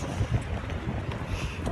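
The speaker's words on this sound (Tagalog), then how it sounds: "Yung hangin." Strong wind gusting outdoors ahead of a snowstorm, a low, steady rumble buffeting the microphone with no voices over it.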